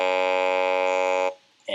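A synthesized 'ah' vowel lacking its higher formants: a steady, buzzy harmonic tone that holds evenly for over a second, then cuts off abruptly, followed by the start of another sound.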